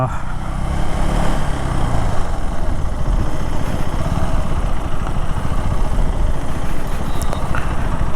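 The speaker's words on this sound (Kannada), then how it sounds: "ಇಂಜಿನ್ ಏಟ್ ಹೆಂಗೆ ಹೊಡಿತಾ ಇದೆ ಗೊತ್ತಾ?" A KTM Adventure 390 X or Royal Enfield Himalayan 450 motorcycle engine runs steadily with a continuous rough drone under wind noise, and a voice talks over it.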